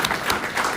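Audience applause at a hackathon opening session, a short, steady wash of many hands clapping at moderate level with no speech over it.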